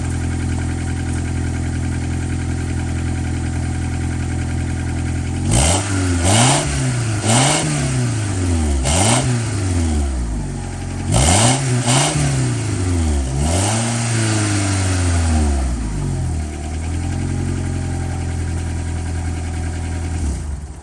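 A Honda Accord engine with a newly replaced muffler revs repeatedly from idle, each sharp climb falling back before the next. About six revs come close together, loud and near, then the engine settles to idle.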